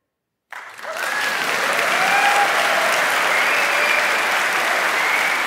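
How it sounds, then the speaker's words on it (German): Studio audience in the large broadcast hall of Westdeutscher Rundfunk in Cologne breaks into loud, sustained applause that starts abruptly after a moment of silence and keeps going evenly. "Menschen, die sich selbst beklatschen"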